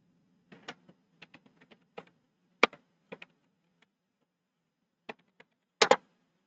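Scattered keystrokes on a computer keyboard in a quiet room, with short clusters of soft clicks separated by pauses and one louder burst of taps near the end. No voices.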